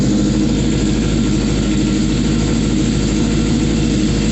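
A riding mower engine with new gears and a throttle, running up close in a loud, continuous droning roar that holds steady without a break.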